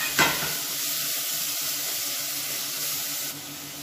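Steady, soft sizzling of chopped tomato and vegetables sautéing in oil in a pan, a brief louder crackle at the start, then an even hiss throughout with no voices.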